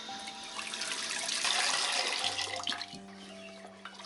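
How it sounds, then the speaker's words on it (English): Tap water runs gently over a pot being rinsed by hand in a sink, a soft steady splash close by with faint clinks and a low hum beneath it. "little bit more water."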